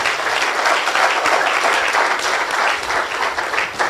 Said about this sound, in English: Please give a round of applause to this man.